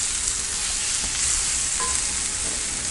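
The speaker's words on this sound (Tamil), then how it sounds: "வெங்காயம், பூண்டு நல்லா வதங்கிடுச்சு" Onion and garlic sauté in a cast-iron kadai for onion chutney. A constant, close frying sizzle runs throughout, with a few light stirring scrapes and no talking.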